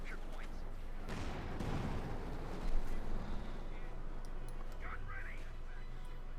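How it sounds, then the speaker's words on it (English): Command tank cannon fire in the Company of Heroes 2 real-time strategy game: a broad blast early on, with a loud crack near the middle, set over constant rumbling battlefield noise. "So they're getting glassed by the command tank."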